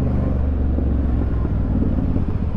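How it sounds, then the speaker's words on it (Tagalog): Rush hour road traffic rumbles with a continuous low, loud drone of passing car engines. The wash of noise stays close and steady, with no one speaking. "Grabe pala dito mag-traffic pag rush hour mga lodi."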